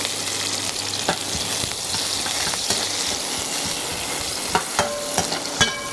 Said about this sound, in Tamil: இப்போ வெங்காயம் ஓரளவு நல்லா வதங்கிட்டோம்.